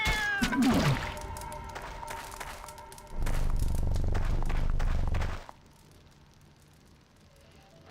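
Cat meowing in the video game FATE, a few short cries near the start over game music and effects, followed by a louder burst of game noise and then a quiet stretch.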